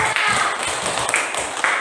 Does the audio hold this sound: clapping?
yes